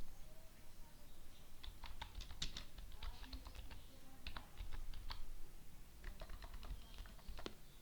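Someone types a MySQL command on a computer keyboard, producing quick bursts of clicking keystrokes with short pauses over a low background hum.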